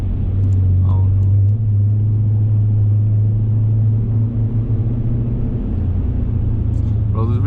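A car drives through rainy traffic, heard from inside the cabin as a loud, steady low engine and road rumble, with a few faint clicks near the end and no talking.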